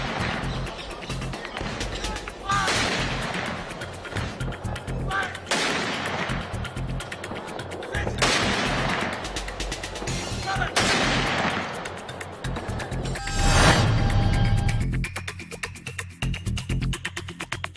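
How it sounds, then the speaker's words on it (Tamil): Cannon salute fired at a military funeral with full honours, part of a 17-round salute: several loud, booming blasts spaced a few seconds apart, each followed by a long rolling echo over steady outdoor background noise. "17 சுற்றுகள் பீரங்கி குண்டுகள் முழங்க"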